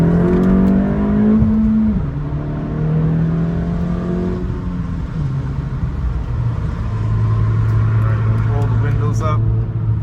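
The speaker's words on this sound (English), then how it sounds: "Up, getting to 6th, and we're cruising." A 2023 Acura Integra with an MBRP exhaust accelerates on the highway. Its steady, droning engine note drops in pitch at each gear shift, then settles into a smooth cruise.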